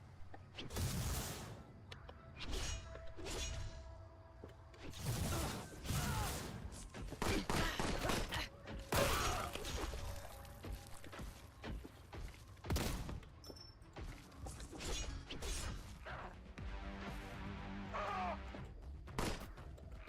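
Dual-wielded bolt pistols fire in a Warhammer video game, with repeated loud bursts of shots spread through the scene over game effects and music.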